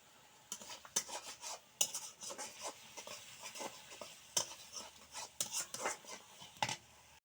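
Spices being stirred in a pan while cooking a fish curry with beans, with repeated scraping and clinking of a metal utensil against the pan in an irregular rhythm, fairly close and moderately quiet.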